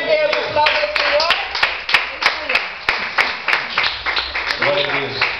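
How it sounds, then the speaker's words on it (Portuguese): Church congregation clapping in steady rhythmic bursts during an evangelical service, loud and close, with a voice speaking and a cough or two mixed in over the applause. "Glória a Deus, aplauda o Senhor."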